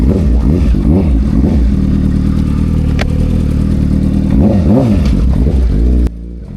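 A motorcycle engine idles steadily close by after warming up, with a throaty, even rumble and a few brief rises in pitch, then stops abruptly near the end.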